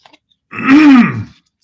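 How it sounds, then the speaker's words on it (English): A single throaty clearing sound, close and fairly loud, rising briefly then trailing off after a soft click or two. "Clear my throat."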